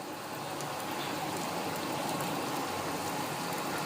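Keema samosas sizzle in hot oil over medium heat, a steady dense crackle of frying that stays constant and close, with no voices over it.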